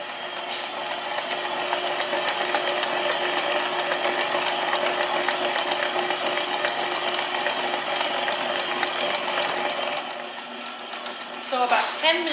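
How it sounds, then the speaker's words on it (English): Stand mixer on knead mode working focaccia dough, a loud steady mechanical whir with rhythmic clicking and grinding running throughout, fading slightly near the end as a voice begins. "So about 10 minutes have elapsed with our mixer on knead mode."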